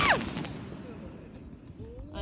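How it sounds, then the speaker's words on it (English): A big firework launching in a parking lot: a sharp whooshing burst at the start that fades into a low rumbling tail, with a faint rising whistle near the end. "We're lighting 2 big fireworks at the same time."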